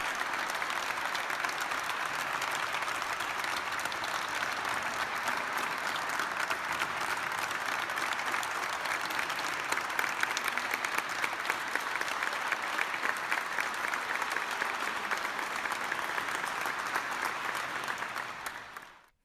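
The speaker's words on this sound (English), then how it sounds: "I want you to hear how they cheer and clap." Recorded audience applause for a choir, a long sustained roar of dense clapping with some cheering, steady and full for nearly twenty seconds before fading out at the end.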